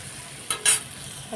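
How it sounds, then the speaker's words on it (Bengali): Okra fries in an iron wok over a low, faint sizzle, broken by two quick, bright scraping stirs close up, one right after the other. "ভেন্ডি ভাজা এটা কিন্তু লোহার কড়াইতে রান্না করছি"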